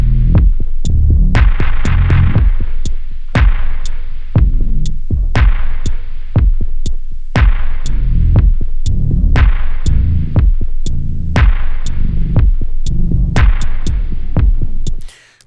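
A music sample slowed to half speed with Logic's Varispeed, its lowered pitch giving a loud, throbbing groove of deep thumps and sharp hits on a steady beat with no voices.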